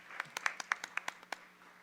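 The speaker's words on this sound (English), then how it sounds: "Let's give another round of applause for the Christmas Addicts Ensemble." Scattered applause for a Christmas music ensemble at an evening school board meeting: a dozen or so separate, quiet hand claps in an uneven rhythm, thin and sparse, with no voices.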